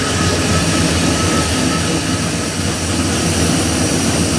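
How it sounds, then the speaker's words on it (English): A 1962 Studebaker fitted with FITech fuel injection hums as its fuel pump builds pressure, a loud, steady, close-up whir with no break for the full few seconds. "That's a fuel pump building up pressure."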